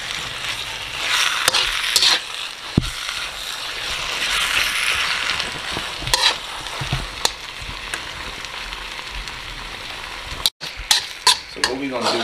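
Meat searing in a wok for birria tacos, a continuous hiss of sizzling fat with occasional clinks and scrapes of utensils, under intermittent talking.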